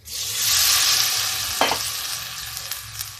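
A loud hiss of sizzling erupts as water hits a hot tadka of oil and spices for lauki dal, then settles into steady frying crackle with a brief clink of a utensil.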